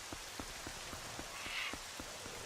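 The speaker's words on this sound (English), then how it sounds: "It's just the sound of falling rain." Rain falls steadily in the Zelda game Twilight Princess, a soft constant hiss with scattered distinct drops landing at a regular pace, with no music or voices.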